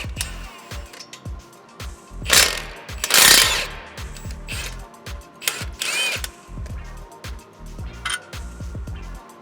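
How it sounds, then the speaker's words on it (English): An impact wrench with a 19mm socket rattles in several short bursts, removing the two 19mm bolts that join a 2022 Subaru WRX steering knuckle to the shock, with clanks of tools in between, close and loud. "So I got a 19mm wrench and an impact with a 19 on it."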